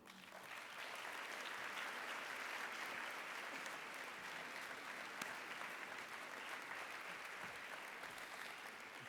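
A conference audience at ObesityWeek 2017 gives sustained, steady applause to welcome James Thornton, a dense wash of clapping that holds at an even level throughout, with no voices heard.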